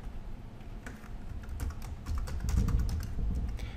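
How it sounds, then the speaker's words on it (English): A username is tapped out on a computer keyboard in a quick run of close, soft key clicks that grow a little louder and denser toward the end. "Type in my username."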